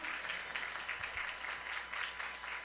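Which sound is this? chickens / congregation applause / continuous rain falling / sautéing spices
congregation applause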